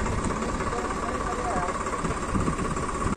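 A tractor engine rumbles steadily at a low idle-like drone while towing a car along a badly damaged road, with someone talking over the continuous noise.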